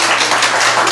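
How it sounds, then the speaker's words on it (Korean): Audience at a Democratic Party members' speech event in Gijang County clapping together, a dense burst of applause lasting under a second. "고맙다 박수 한번 칠까요?"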